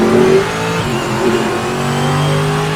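A C6 Corvette engine revs under throttle while cornering on the Nürburgring GP circuit in a racing game, a loud, steady mid-pitched roar that climbs and holds with slight dips, alone without talk.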